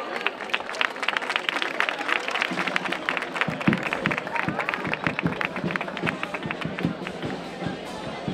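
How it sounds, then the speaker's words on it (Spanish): A crowd applauds a carnival group at the Tarifa carnival presentation, brisk sustained clapping with sharp individual claps standing out over a reverberant room, loud throughout. "Un aplauso grande para ellos,"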